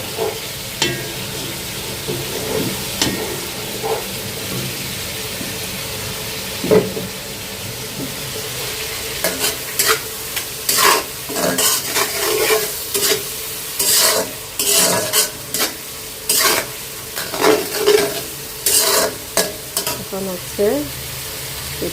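A spice paste is stir-fried in a pan for a bhuna curry, sizzling steadily while a spatula scrapes and stirs in repeated bursts that grow busier toward the end.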